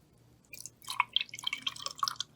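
Vinegar poured over an egg in a glass, a brief close burst of bright splashing and dripping that starts after half a second of near silence and continues unevenly to the end.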